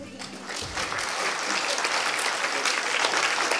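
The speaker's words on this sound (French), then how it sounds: "Et on applaudit une dernière fois" An audience at a student talent evening in Lille bursts into applause, a dense sustained wash of clapping that swells after a moment and holds loudly to the end.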